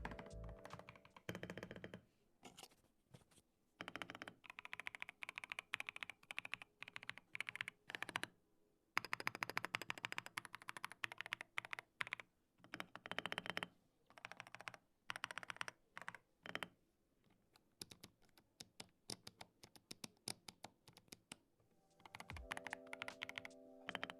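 Continuous typing on an Epomaker Shadow-X mechanical keyboard, dense runs of crisp key clacks with brief pauses between bursts, close and clear with no talking.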